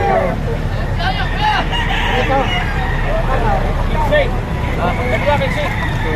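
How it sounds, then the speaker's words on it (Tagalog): A rooster crows loudly amid a busy outdoor poultry market in Lipa, Batangas, with other fowl clucking and people talking nearby over constant background noise. "Gandang manok nito."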